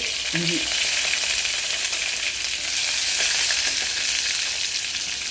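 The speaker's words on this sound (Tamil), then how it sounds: "நல்லா பொரிஞ்சானே வரமிளகா போட்டுங்க" Dried red chillies fry in hot oil for a Madras-style chicken curry, giving a steady, close, dense sizzle throughout with a brief low clink near the start and no talk.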